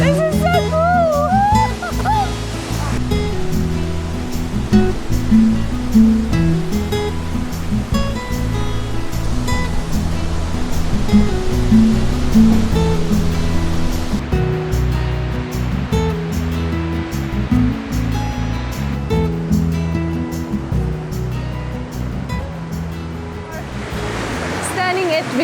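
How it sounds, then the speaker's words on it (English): Victoria Falls roars as a loud, continuous wash of falling water from a river swollen by heavy rain, with excited voices talking over the rush. "Standing at Victoria Falls, and what a sight!"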